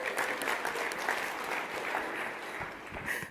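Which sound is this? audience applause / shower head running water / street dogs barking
audience applause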